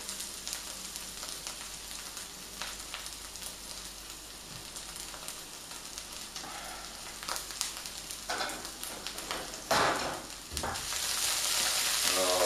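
Homemade satay chicken stir fry with garlic and chilli sizzles in a pan as the sauce reduces, a steady close crackle that swells louder toward the end, with no talk.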